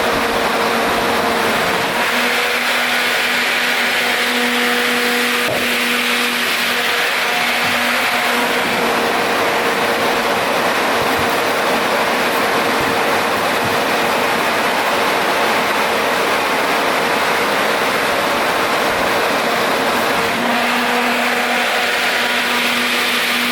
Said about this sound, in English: So I'll hook it up, and this thing's gonna torque a lot when it starts.